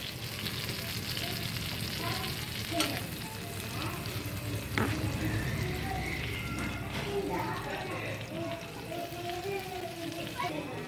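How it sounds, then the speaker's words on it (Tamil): Butter-topped bun sizzling on a hot dosa griddle for a Madurai-style butter bun, a steady close frying hiss with small crackles and occasional utensil taps, while a person talks over it. "பன்னு மேல கொஞ்சமா இந்த மாதிரி பட்டர் வச்சு அது அப்படியே திருப்பி தோசைக்கல்ல"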